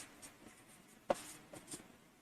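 Chalk or marker writing on a board during a Hindi-language maths lesson on numbers, heard as a few faint scratchy strokes with one sharp tap near the middle, fairly close in a quiet room with no talking.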